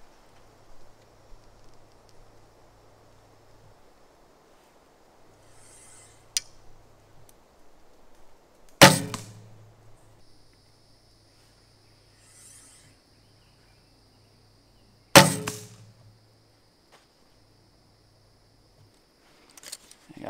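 Two sharp, loud arrow releases from a barebow recurve fitted with Hoyt barebow weights, spaced several seconds apart, each a brief snap with a short ring, over a quiet outdoor background with faint insect-like ticking.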